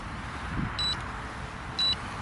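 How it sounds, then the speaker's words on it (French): Remote control sounding a low-battery warning: two short, high electronic beeps about a second apart, faint over steady background hiss. "soit ça vient du fait que cette manette n'arrête pas de biper"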